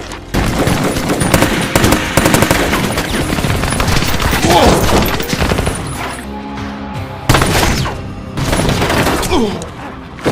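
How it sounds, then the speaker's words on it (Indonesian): Loud movie gunfire erupts as a former sniper mows down gangsters: rapid automatic bursts and heavy booms in dense volleys, with short lulls between barrages. "Sehingga tak berselang lama pun ia langsung menembaki mereka tanpa ampun."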